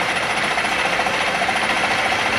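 A lathe turns under hand feed while cutting cast iron, giving a loud, steady mechanical whirr with a gritty, chattering texture throughout.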